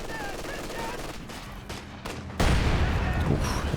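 MG34 machine gun fire in the Company of Heroes 2 strategy game, rapid bursts of gunfire amid battle noise, growing louder partway through, under a commentator's voice.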